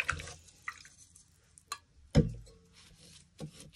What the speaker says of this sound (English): let's wash our brush ready to mix the next colour